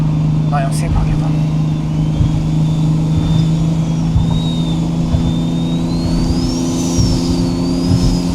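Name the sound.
car engine revving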